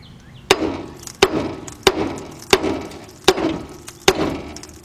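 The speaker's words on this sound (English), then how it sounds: "you're going to hit the spindle right at that point right there" Six sharp metallic hammer blows ring out at a steady, roughly even pace against the front strut spindle of a 2010 Honda Accord 2.4, each hit loud and close with a short decay.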